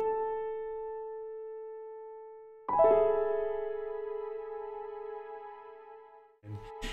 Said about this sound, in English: as the chords die away, you'll hear the strings come in.